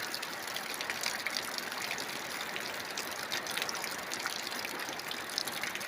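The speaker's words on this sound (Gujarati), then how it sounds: "સારો એવો વરસાદ અત્યારે વરસી રહ્યો છે" Steady, dense rushing hiss of rain pouring down in Deesa, Banaskantha, continuous and fairly close, with no voices.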